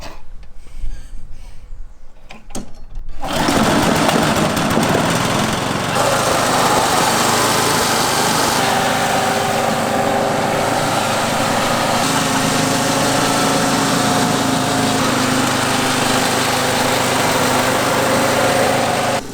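A powered reel mower runs steadily across a Kikuyu grass lawn, its small engine starting with a burst and then droning loud and close with a whirring cutting reel for a sustained stretch.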